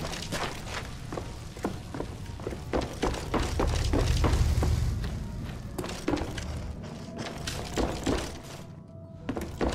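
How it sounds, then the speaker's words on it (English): Knife stabs in Black Ops Zombies, a series of repeated dull thuds and slashing impacts at an irregular rhythm over a low rumbling background. "Without bullets, I'll have to resort to stabbing!"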